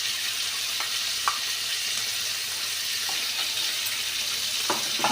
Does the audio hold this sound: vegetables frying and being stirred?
yes